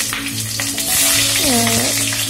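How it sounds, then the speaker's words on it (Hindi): Potatoes fry in hot oil with a loud, dense, continuous sizzle close by, plus a few faint clinks and some tonal background noise. "आलू फ्राई कर लेती हूँ थोड़ा लाल लाल करके"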